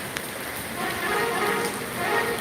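Heavy rain keeps falling at a church parish feast in Adupputty, a constant close wash of noise, with a voice talking over the downpour.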